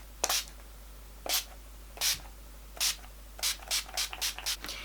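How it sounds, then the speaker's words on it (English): Short bursts of fine mist from a makeup setting spray, about ten quick hisses, spaced apart at first and then coming in rapid succession, close and fairly soft. "I'm going to use the All Nighter setting spray."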